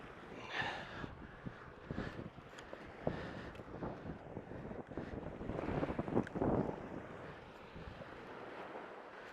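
Strong wind buffets the microphone at a Puget Sound beach while a Sea Eagle SMB124 inflatable boat is launched for salmon fishing, with steady gusty rumble, brief knocks and handling noises throughout and no talk.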